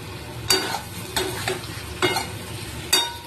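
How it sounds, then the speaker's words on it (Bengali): Spices sautéed in a pan, heard as a low sizzle under four evenly spaced scraping strokes of a spoon stirring, close and distinct. "এর মধ্যে আমি মশলাপাতি সব দিয়ে দিয়েছি, দিয়ে ভালো করে 2 থেকে 3 মিনিট কষিয়ে নিয়েছি"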